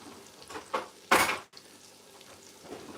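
A spoon slowly turns egusi soup in a pot, cooked by the frying method. A brief, louder scraping swish comes midway, with soft stirring and bubbling on either side.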